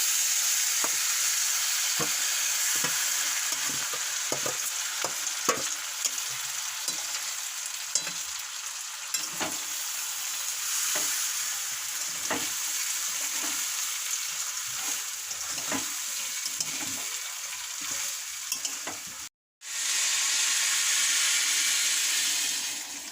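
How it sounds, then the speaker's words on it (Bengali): Rice being stirred as it cooks in a pot, a continuous hissing sizzle with repeated soft knocks and scrapes of the spoon, close up, a brief silence near the end, no talking. "এবার চালটা তুলে দিচ্ছি দিয়ে নাড়বো"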